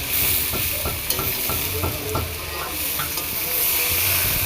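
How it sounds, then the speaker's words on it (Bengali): Chicken kosha frying in a pan and being stirred constantly, loud close sizzling broken by a regular run of scraping spatula strokes. "এই যে মা নাড়া দিচ্ছে, মা বললো যে নাড়া দিতে থাকতে হবে আর কি"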